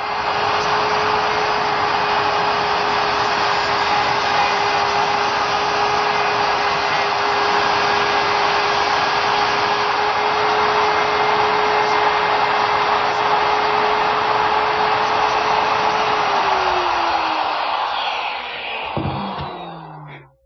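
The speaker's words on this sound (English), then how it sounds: "Now I'll be able to remove the bulk of the material with my router." A router cuts away the bulk of the wood in a workshop, a loud, steady, high motor whine held for most of the time before it winds down and stops near the end.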